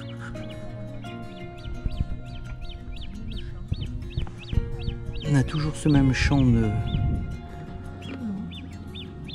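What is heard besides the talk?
common moorhens calling on a lake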